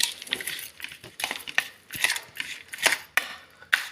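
Dry Maggi snack and tomato Lay's chips being tossed together in a large bowl, a string of crisp, scattered rustles and clinks in irregular bursts, close and alone.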